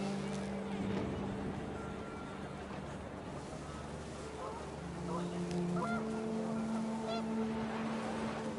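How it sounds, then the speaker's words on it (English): Panicked geese honking in the video game What Remains of Edith Finch, a cluster of held nasal honks rising over windy background noise, fairly faint and overlapping toward the end. "The wind picked up, and panicked geese appeared and quickly went."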